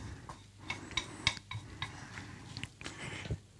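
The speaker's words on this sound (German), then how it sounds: "Weil jetzt kommen die Zwiebeln dazu." Onions going into a pan with rendered bacon fat on a high-heat stove for quiche lorraine, with faint sizzling under scattered clinks and scrapes of a utensil against the pan.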